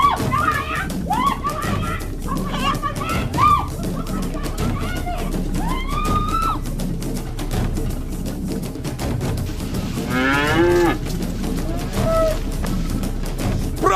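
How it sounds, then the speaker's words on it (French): A cow moos several times in a busy outdoor farm scene, the rising calls mid-distance among clatter, other livestock and people talking and shouting. "Prends cette vache."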